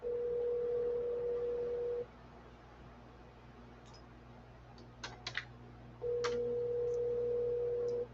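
An outgoing telephone call rings through a phone: a long, steady ringback tone, a pause with a few faint clicks, then the tone returns.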